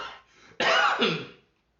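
A single harsh cough, preceded by a brief throaty rasp, close and loud, then silence.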